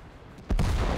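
A heavy tank cannon shot in World of Tanks, an IS-7 tier 10 tank firing: one sudden loud boom with a deep rumbling tail that carries on to the end.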